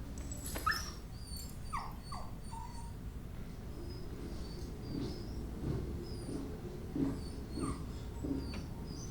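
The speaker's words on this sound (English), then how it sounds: "Oh, the dog!" A dog in a TV episode whimpers and yelps faintly in a few short high cries over a low steady background hum, with no talk.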